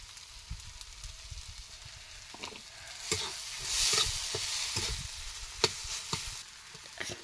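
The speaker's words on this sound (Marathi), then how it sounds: "परतून घ्यायचं, म्हणजे सगळीकडे मिक्स होतं." Brinjal is stirred and sautéed in an old, blackened wok over a wood-fired stove, with a soft steady sizzle beneath scraping spoon strokes and occasional clinks against the metal, close by and with no talk.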